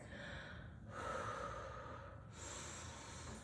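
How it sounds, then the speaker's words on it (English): Slow, deep breathing during a core exercise, with long airy inhales and exhales close to the microphone and no talking. "Let's take about 5 deep breaths right here."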